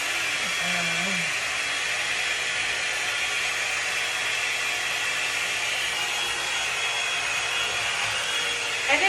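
A hair dryer brush drying hair gives a steady, even airy whoosh and motor hum, continuous and close, with faint rustling of hair as the brush moves.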